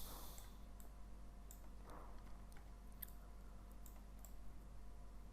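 Computer keyboard keys pressed to teleoperate a robot, sparse faint clicks at irregular intervals over a low steady hum.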